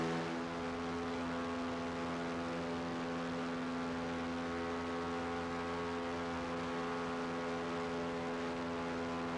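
A loud engine on a tour boat ride in Miami drones in a constant, unbroken tone with strong humming harmonics and no pauses or voices.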